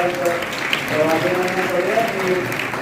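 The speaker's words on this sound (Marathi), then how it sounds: "एकदा जोरदार टाळ्या वाजून" Audience applause at a Marathi ceremony honouring students awarded PhD degrees, a dense, loud, continuous clapping filling the whole stretch, with voices murmuring underneath.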